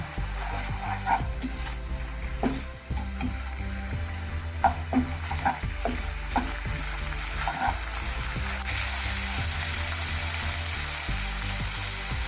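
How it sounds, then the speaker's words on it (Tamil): Prawns fry with lemon juice in a pan for a Thai-style basil pepper prawn dish, giving a steady close sizzle with stirring clinks and spatters running throughout, no talking. "இதில் இந்த தண்ணி குறையிற வரைக்கும் கொஞ்சம் நல்லா ஃப்ரை பண்ணுங்கள்"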